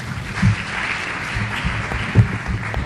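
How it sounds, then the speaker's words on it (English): Audience applause at an annual lecture, a full room clapping steadily at moderate loudness, with a couple of heavier thumps and some low murmuring underneath. "Another round of applause for them, please."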